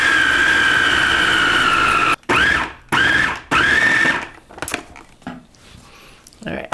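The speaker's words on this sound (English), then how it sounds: "I'm going to give it a blend again" A blender whirs loudly and steadily on peanut butter chickpea cookie dough for vegan cookies, its motor whine cutting out briefly twice and restarting, then stopping as scraping and handling noises follow.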